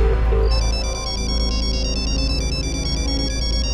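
A mobile phone ringtone plays loud and close as a bright, repeating electronic melody with no talking over it.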